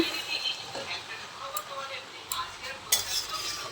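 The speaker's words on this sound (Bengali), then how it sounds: "এবার নাড়বো" Cabbage curry with dried Lote fish is stirred in a pan, with soft scraping and a few sharp utensil clinks against the metal over a faint sizzle.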